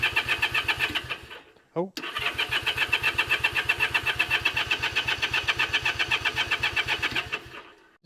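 An old Honda Dream motorcycle engine, left sitting for 14 years, cranks with starting fluid in the cylinders, giving a steady, rapid rhythmic chugging that pauses briefly as a voice calls out, then resumes until near the end.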